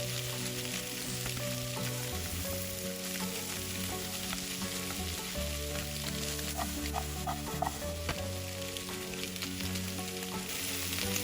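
Zucchini and mixed vegetables stir-fried in a pan, a steady sizzle running throughout with a spatula scraping and tapping now and then, close and fairly quiet, no voices.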